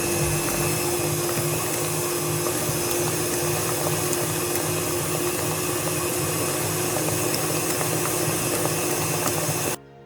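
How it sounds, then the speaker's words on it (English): Electric mixer creaming butter and sugar for a Jamaican black fruit cake, a loud, steady whirring motor hum with a constant tone that runs unbroken before cutting off abruptly at the very end. "I'm going to cream my butter till my cream my butter and sugar tastes light and fluffy"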